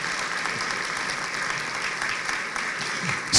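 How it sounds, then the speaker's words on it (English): Steady, full applause from an audience at a citizens' civic competition event, continuous clapping at even strength from start to finish. "let's give yourselves a round of applause if we can."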